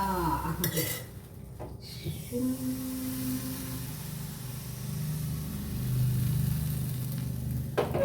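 Appam batter sizzling on a hot pan in a home kitchen, a continuous gentle hiss with a low hum underneath and a few metallic pan clatters at the start and end.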